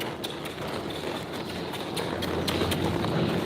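A very short horse trained in dressage spins in place, its hooves producing quick, rapid clip-clops under a steady wash of broad noise, close and fairly loud.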